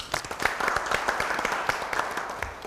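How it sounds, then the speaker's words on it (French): An audience at a televised entrepreneurship competition final claps, the individual hand claps distinct and close within a busy, steady round of applause. "Ça mérite des applaudissements"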